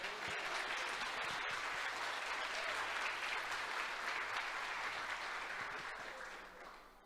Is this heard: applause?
yes